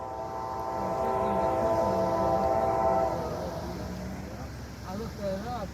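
A freight train rolls past close by on mixed CSX, NS and BNSF lines, a loud steady rumble with sustained horn tones that fade as it goes, while people talk nearby.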